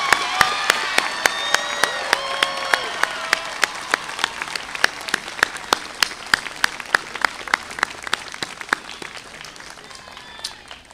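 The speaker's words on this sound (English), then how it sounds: "Please join me in a round of applause for these incredible students." At a high school commencement ceremony, an audience gives sustained applause for graduating students, with dense clapping from a large crowd and a few louder claps close by, fading slightly toward the end.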